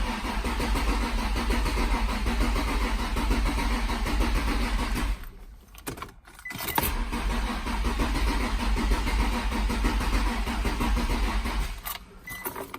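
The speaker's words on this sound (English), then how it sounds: "I'm gonna start the car up so you guys can see what I'm talking about" An Infiniti G35 with a faulty camshaft position sensor cranks and fires up, running at a loud steady idle, cutting out briefly around the middle before restarting with a sputter and settling again; a faint jangle of keys.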